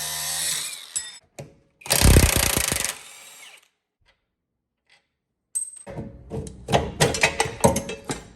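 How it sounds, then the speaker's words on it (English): A cutoff wheel grinding through the rear strut coil spring of a 2004-2009 second-generation Toyota Prius, loud harsh bursts of cutting separated by a quiet pause, with clanking of tools and metal after. "I'm just gonna take a cutoff wheel and just cut this last loop off"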